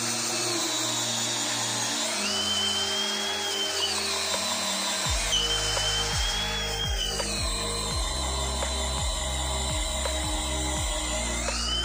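A Stanley Fatmax SBD715D2K impact drill runs in first gear with a steady high motor whine, then settles into a lower grinding drone with regular heavy thumps as the bit bites, loud and close.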